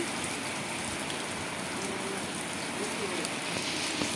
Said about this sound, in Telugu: ఇప్పుడైతే ఫుల్గా పడుతుందండి వర్షం మామూలుగా పడట్లేదు